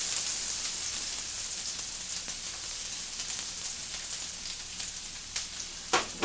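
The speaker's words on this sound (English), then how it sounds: "We're going to just saute them real quick." Garlic and onions sauté in oil in a pan on a hot stove, a steady bright sizzle and crackle with a few sharp pops, close and loud with no talking.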